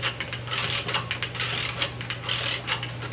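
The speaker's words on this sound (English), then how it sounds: "we're going to torque this down to 125 foot-pounds with red Loctite" A torque wrench ratchets on Mazda Miata differential bolts being tightened to 125 foot-pounds with red Loctite, giving repeated close, sharp metallic clicking strokes in quick bursts with no talking.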